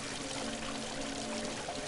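In a Christmas-themed Nutcracker video game, water pours steadily from a pipe, a continuous hissing rush at moderate level with no break and no voices.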